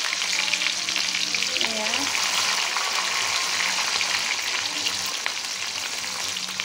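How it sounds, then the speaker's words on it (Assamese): Onions sizzle in a pan, a loud, continuous frying hiss with faint stirring scrapes, steady from start to finish, with one brief spoken word. "ইয়াত পিঁয়াজখিনি ভাজি লৈছোঁ আগতীয়াকৈ"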